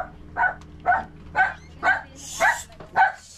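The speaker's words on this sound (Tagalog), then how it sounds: "Ayan, may aso sila, oh." A dog barks six times in an even rhythm, fairly close and loud, with faint background hum and no talking over it.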